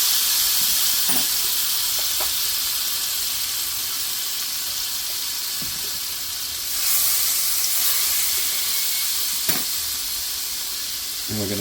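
Garlic sizzles steadily in a Lodge cast iron skillet, with a constant bright hiss and a few faint clinks and stirs.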